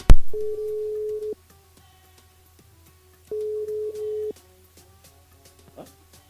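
A telephone call rings out on a live radio show, two long electronic ringback tones about a second each, separated by a pause and heard alone with no talk.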